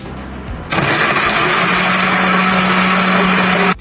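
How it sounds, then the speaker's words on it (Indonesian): A kitchen blender purees ground spices, leaves and liquid for a sweet savory coconut serundeng seasoning, starting abruptly after a brief thud and running as a loud, steady, close whirring drone before cutting off. "Blender sampai halus ya."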